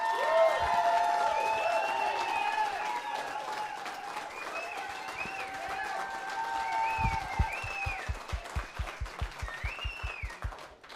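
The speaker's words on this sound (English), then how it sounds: "So round of applause for these guys." A crowd at the Bop Stop jazz club applauds a school jazz ensemble, with sustained clapping and high whoops and cheers on top. Near the end, clapping turns into steady rhythmic claps.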